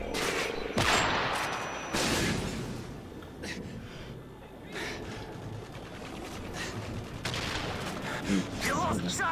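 Rapid gunfire from a first-person shooter video game crackles in repeated bursts and single shots, dense and punchy throughout, with a player talking over the action.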